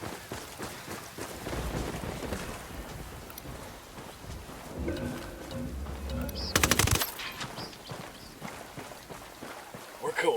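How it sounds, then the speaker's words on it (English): Gunfire in the Ghost Recon Wildlands video game, a short, loud burst of rapid shots amid a rain-like background hiss, with voices talking before and after. "Tango heard the gunshot."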